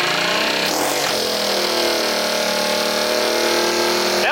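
A 4-stroke minibike engine runs loud and close after a choke adjustment, its pitch sweeping up and settling into a high steady rev, then rising again sharply at the very end.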